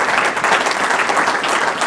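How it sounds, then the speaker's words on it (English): Audience applause for police chiefs at a State of the City address, a loud, dense wash of clapping from a large crowd that holds steady throughout, with no voices heard. "So a round of applause for them too here."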